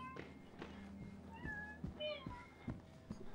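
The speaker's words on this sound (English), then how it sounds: "Tell our cat to stop." A cat meows several times in short harmonic cries, mixed with gameplay noise and people talking over it.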